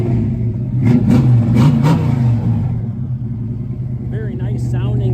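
1967 Ford Mustang Fastback with a 347 stroker V8 revving: a loud, deep rumble rising in a couple of throttle blips, then settling into a lumpy idle, with a voice speaking over the engine near the end.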